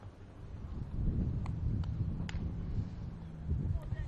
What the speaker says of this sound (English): Wind blowing in right at us.